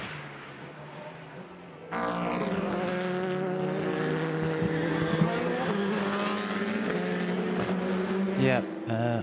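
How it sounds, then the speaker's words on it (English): Race car engines roar steadily through a motor race as a car rides the curb, a loud sustained drone with shifting harmonic tones and a brief dip near the end, heard under continuous commentary. "Neil Yanni riding the curb, whacking everything, still pushing"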